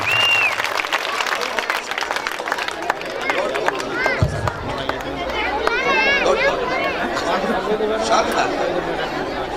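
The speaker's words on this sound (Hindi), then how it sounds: "तालियों की गड़गड़ाहट के बीच में" Parents and children at an annual school cultural function applaud together, continuous clapping mixed with crowd chatter, shouts and an announcer's voice over a PA.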